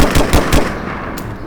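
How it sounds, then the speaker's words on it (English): A fully automatic assault rifle sound effect fires a rapid, loud burst of about four shots in quick succession, then one more isolated crack as the echo trails off. "A pistol fires very differently from a fully automatic assault rifle."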